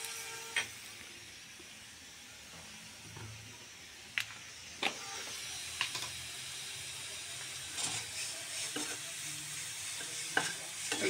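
Sliced beetroot frying in a pan until reddish and charred, a soft continuous sizzle with intermittent sharp clicks and scrapes of stirring, fairly quiet and close.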